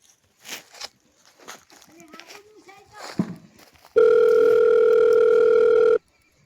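A telephone ringing tone in a Gujarati village comedy sketch repeats unanswered, a steady loud electronic tone lasting about two seconds after some scattered speech and movement.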